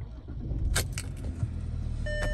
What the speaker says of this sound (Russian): Автомобиль заводится идеально.